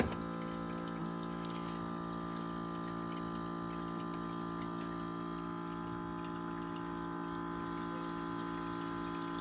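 A coffee machine hums steadily with a pump-like drone as it runs to dispense coffee into a cup, a continuous, even mechanical whir with faint liquid trickle, no talking.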